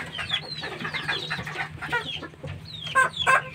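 A fighting rooster clucks up close in repeated short, busy calls, with a few sharper squawks near the end.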